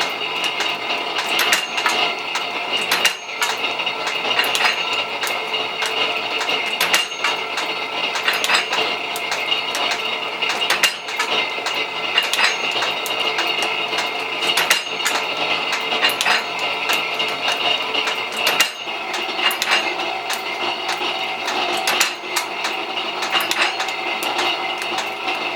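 Typecasting machine casting and trimming metal type, its vertical knife trimming each piece, producing a loud, continuous, rhythmic metallic clatter with regular sharp strikes throughout.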